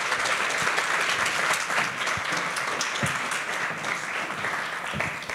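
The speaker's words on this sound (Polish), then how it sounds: "Wielkie brawa." Sustained applause from a large audience at an awards gala, steady and dense throughout with no letup.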